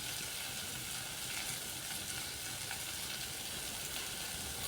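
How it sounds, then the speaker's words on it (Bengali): Potatoes and onions sauté with cumin powder, red chili powder and salt in a pan while being stirred repeatedly, making a steady close sizzle and frying hiss with faint scraping, no voices. "এভাবে বারবার নাড়িয়ে ভালো করে কষিয়ে নিচ্ছি।"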